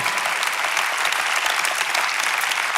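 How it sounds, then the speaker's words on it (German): A church audience applauds during a sermon, a dense, loud burst of many hands clapping continuously for a few seconds, no voices on top. "Und lass für das Gott heute einen Applaus geben"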